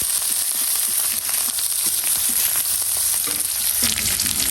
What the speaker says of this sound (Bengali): এদিকে আমি গরম তেল দিয়ে দিচ্ছি, এর মধ্যে সব দিয়ে দেবো। দিলাম জিরা, দিলাম রসুন, দিলাম পেঁয়াজ